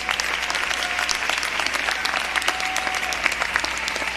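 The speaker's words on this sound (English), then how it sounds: "Give them a round of applause." Steady crowd applause fills a university commencement ceremony in the Virgin Islands, dense continuous clapping from a large audience honoring the speakers, lasting throughout without talk.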